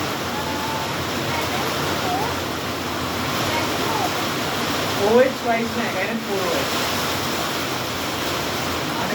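Water rushes steadily along a drain channel, a continuous broad hiss that stays level throughout, with children's voices briefly heard over it.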